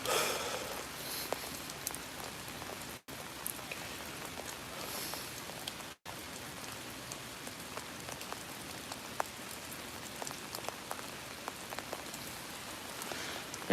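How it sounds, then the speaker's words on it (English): Big fat raindrops fall steadily during a lake-effect thunderstorm in Oswego, a constant close patter with scattered distinct drop hits and two brief cutouts, with no talking. "Also getting big fat drops of rain,"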